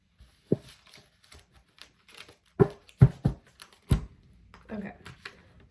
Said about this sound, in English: this deck is not the easiest to shuffle.